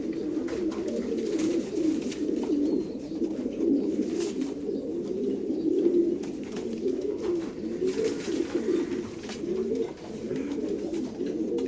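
Racing pigeons cooing in a loft, overlapping low rolling coos from several birds close by, continuous throughout with faint bird chatter around them.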